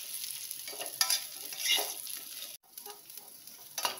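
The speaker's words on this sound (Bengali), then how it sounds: "এর মধ্যে এবার আমি এই ডাঁটাগুলো দিয়ে একটু নেড়ে নেব।" Bitter gourd pieces and vegetable stalks sizzle steadily in hot oil in a pan, with scraping stirring strokes at intervals and a brief pause partway through; no one talks.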